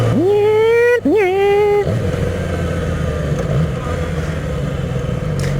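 A 2014 Yamaha R6 sport motorcycle engine revs twice in quick rising bursts, loud and close, then drops back to a steady, lower running drone for the rest.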